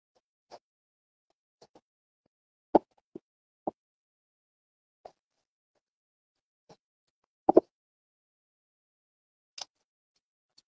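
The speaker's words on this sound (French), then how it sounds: "je vais remplir juste les cellules du milieu avec le terreau simple" Potting soil poured and pressed into the middle cells of a seed tray for indoor sowing, giving about a dozen soft, separate plops and taps scattered over a quiet background.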